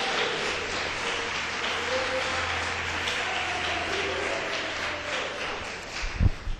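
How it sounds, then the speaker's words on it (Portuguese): A church congregation claps together in sustained, even applause over a low steady hum, with a few louder thumps near the end. "Dá uma salva de palmas para Jesus"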